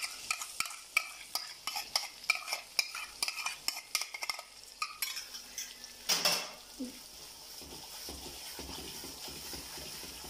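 Yogurt stirred into kebab karahi masala in a pot, with rhythmic close spoon scrapes and clinks against the metal for several seconds, a louder clatter, then a quieter, steady sizzle.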